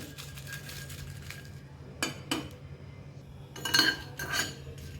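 Red chillies dry roasting in a kadai bring a few sharp metallic scrapes and clinks as they are stirred, rising from a low, quiet background hum.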